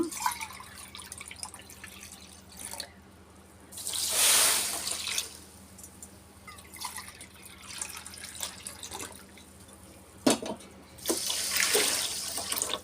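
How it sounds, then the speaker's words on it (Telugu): Water poured into a pot for sugar syrup in a home kitchen making gulab jamun, coming as two separate pours, each a short, bright splashing rush with quieter gaps between them. "రెండు గిన్నెలు వాటర్ తీసుకుందాం"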